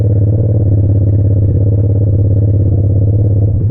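2021 Yamaha MT-07 motorcycle engine riding uphill: a loud, close, steady low rumble with a throbbing pulse under load, slight rise in pitch near the end, no voices.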